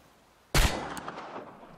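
A single sharp pistol shot fired at a target in the game Chernobylite, a loud sudden crack with a lingering reverberant tail, after a quiet lead-in.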